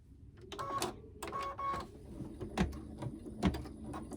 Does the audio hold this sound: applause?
no